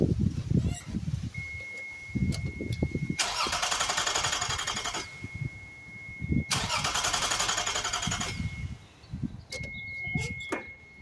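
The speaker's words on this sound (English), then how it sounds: "This is called a crank no start." A Toyota MR2 SW20 engine cranks without starting, two long, loud starter-motor whirring runs of about two seconds each, close by, with clicks and rustling between them and a steady high whine.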